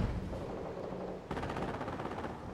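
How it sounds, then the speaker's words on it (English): Battlefield gunfire erupts at a besieged base in the World War II strategy game Company of Heroes (2006), a steady rattle that jumps sharply louder halfway through and keeps up dense, close bursts with no talking. "Base is under enemy fire."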